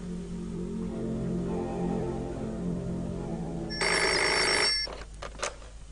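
A telephone in an old PTV television drama, a few seconds of rising electronic trilling rings followed by short clicks and bursts, heard with a low background hum and no speech.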